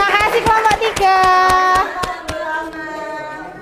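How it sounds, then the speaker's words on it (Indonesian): An Indonesian school class claps together for a student group, with sharp, evenly spaced claps in a quick regular rhythm mixed with children's voices chanting or singing, then fading. "Ayo beri tepuk tangan."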